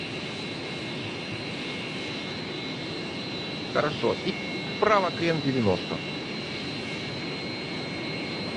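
A steady, loud roar of Su-27 jet engines at full thrust fills the background while someone speaks briefly over it.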